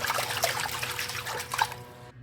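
Fresh lemongrass swished around in a bowl of water while preparing organic lemongrass tea: a close, continuous sloshing and trickling with small splashes, ending abruptly.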